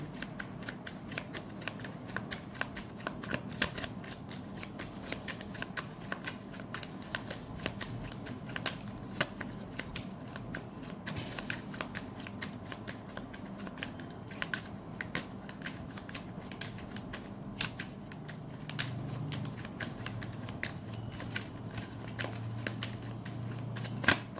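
Tarot cards are shuffled steadily and close up, a soft continuous riffle of rapid papery flicks that runs on for a long stretch at low volume, with no talking over it.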